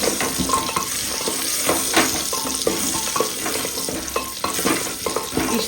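Mutton is stirred with a wooden spatula in a 3-litre pressure cooker pot, producing repeated scraping and wet squelching strokes over a constant sizzle, close and fairly loud with no voices.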